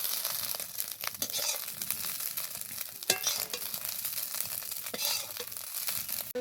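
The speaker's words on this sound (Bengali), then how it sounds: "এরকম ডিমটা খুব ভালোভাবে ভেজে নিয়েছি" Fish roe fries in mustard oil in an iron kadai, a soft, continuous sizzle with scattered crackles and a few sharp spatula scrapes, close and fairly quiet.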